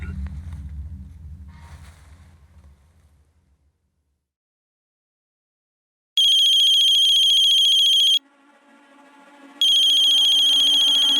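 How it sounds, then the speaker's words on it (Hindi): A mobile phone ringtone signals an incoming call in a crime drama, loud electronic tones in two long bursts separated by a short gap, following a quiet pause after low background sounds. "अननोन नंबर से फोन है सर।"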